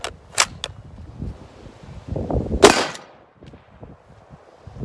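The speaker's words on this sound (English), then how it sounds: "I'm gonna shoot the level 3+ first, see if it penetrates." A .243 rifle fires a 90 grain hollow point round at level 3+ body armor, a sharp loud crack near the middle with echoing tail and smaller bangs around it, outdoors.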